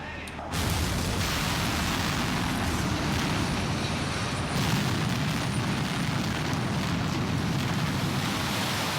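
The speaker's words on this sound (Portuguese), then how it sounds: "uma descarga elétrica causa explosão" A deep, sustained roar of tunnel blasting under the Swiss Alps rumbles continuously after a sudden onset, loud and broadband, a heavy explosion echoing through the enclosed tunnel.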